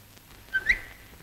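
A person whistles two short, high, close notes in a quiet classroom.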